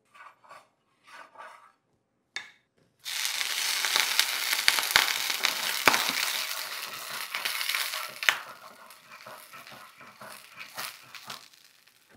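Oil sizzling in a greased pan while a no-maida, no-yeast pizza is made, starting after a few soft clicks and then holding as a steady, close, broadband crackle with occasional sharp pops, gradually easing off; no talking.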